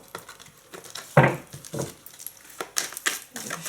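Tarot cards are shuffled up close in a few quick, papery bursts, with faint background noise between them.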